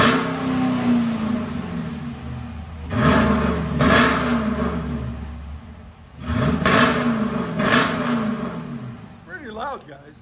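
A 2019 Jeep Grand Cherokee Limited X with a 5.7L HEMI V8 and a mid muffler delete gives two pairs of sharp, loud throttle revs over a deep idle, with a voice briefly heard at the end.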